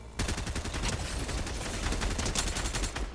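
Automatic gunfire rattles in the video game Fortnite, a fast continuous stream of sharp shots that starts abruptly and keeps a steady loud pace for a few seconds.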